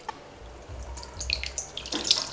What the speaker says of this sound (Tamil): கை வச்சு நல்லா பிசைஞ்சு நம்ம இதிலிருந்து புளி தண்ணி எடுத்துக்கலாம்